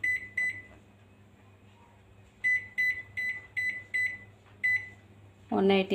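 A convection oven beeps as its mode and timer are set: two short beeps, then a quick run of five or six evenly spaced beeps, clear and close, before a voice starts speaking.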